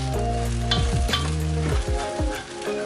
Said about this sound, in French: je vais encore venir remuer mon riz